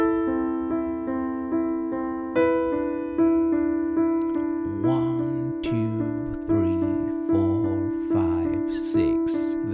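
Piano plays a theme with both hands, a steady repeated figure of sustained notes joined partway through by a moving lower line, close and clear with no talking.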